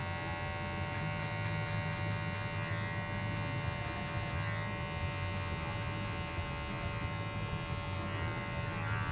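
A Gamma Plus Alpha trimmer blending a beard gives a steady, close electric buzz with a constant motor hum that runs unbroken for the whole stretch, with no voices.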